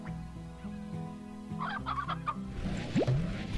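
Chicken clucking in the video game Slime Rancher, a few short clucks and squawks rising over steady game music, clear and close.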